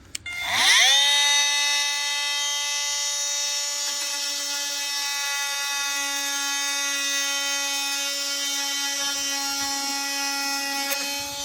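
A rotary power tool bevels the end of a plastic drain pipe, spinning up quickly and then holding a loud, steady, high-pitched whine for about ten seconds, close and without talk.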